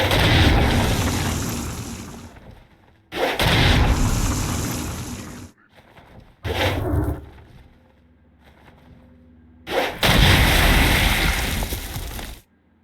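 Several heavy booming blasts with roaring noise in the video game Saints Row: Gat Out of Hell, each swelling and trailing off, separated by quieter gaps, loud and close.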